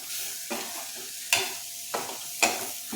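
Pirandai (adamant creeper) sautéing in a pan for thuvaiyal, with a soft sizzle under four or five sharp scraping strokes of a spatula spaced about half a second apart, close by.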